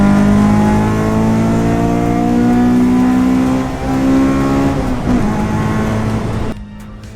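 High-revving Honda Type R engine, its note holding loud and steady near the limit before the pitch eases and sweeps downward, ending with an abrupt cut as the revs drop away.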